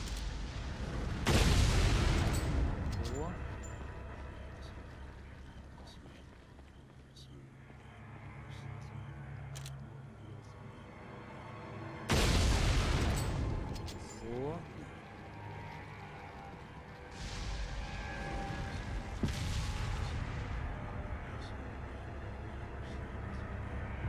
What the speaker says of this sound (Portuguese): Ainda tá me atirando.